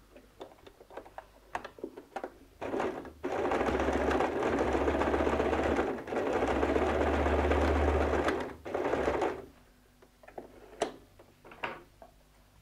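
Sewing machine runs a half-inch seam on a recycled denim jeans bag in two or three steady bursts of fast mechanical stitching, separated by brief pauses and surrounded by light ticks and handling clicks.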